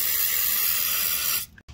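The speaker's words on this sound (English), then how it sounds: "I'm going to spray it with penetrating lube first" An aerosol can of penetrating lube sprays onto a rusty shock absorber nut on a Coaster motorhome in one steady, close hiss lasting about a second and a half, then stops abruptly.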